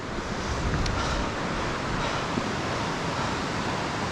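Roaring rush of the Youghiogheny River below the Ohiopyle High Bridge, a steady loud broadband wash of fast water with no talk.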